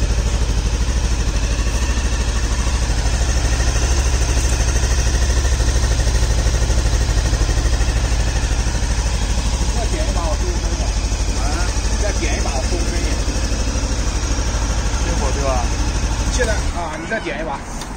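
A VOGE 525 motorcycle with its stock exhaust idles close by in a steady, low, continuous rumble, with voices heard over it before the sound drops near the end.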